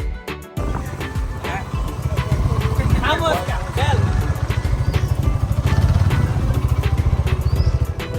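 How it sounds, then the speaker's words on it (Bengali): Motorbike carrying three friends, engine droning steadily and close with a pulsing rhythm throughout the ride, while voices talk over it. "সব কিছু কেনাকাটা শেষ করে আমরা আবার তিন বন্ধু বাইকে করে চলে যাই আমাদের সেই গন্তব্যস্থলে"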